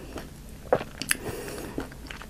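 Crunchy Vietnamese egg rolls are bitten and chewed up close, with a few crisp, distinct crunches spread over a couple of seconds, and no talking.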